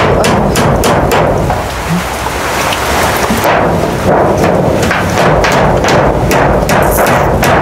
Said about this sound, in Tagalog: Dahil malakas po talaga ang ulan, di po kaya.